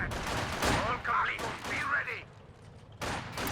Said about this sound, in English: that's a look at the new grenade launcher ability